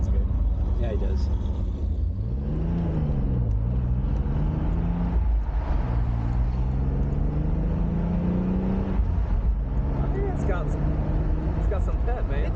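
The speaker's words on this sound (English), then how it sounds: "That truck sounds good." A 1988 Pontiac Fiero engine hums while driving at around 3,500 RPM, its pitch rising and falling with the throttle, heard from inside the cabin under ongoing conversation.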